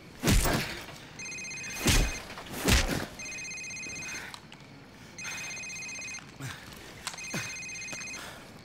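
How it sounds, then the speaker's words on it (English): A cell phone rings in Call of Duty 4: Modern Warfare, a repeating electronic ringtone in regular bursts, mixed with heavy thumps early on, close and clear. "Sir, it's his cell phone."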